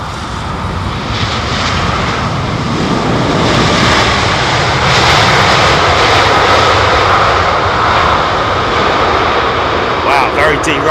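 An Airbus A380 airliner landing at London Heathrow gives a loud, sustained engine roar and rush that swells and holds for several seconds before easing off, with faint clicks near the end.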